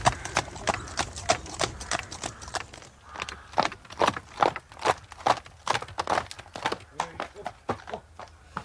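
Horse hooves clip-clop in a steady, close rhythm as a carriage arrives, a radio drama sound effect, with voices talking over the hoofbeats throughout.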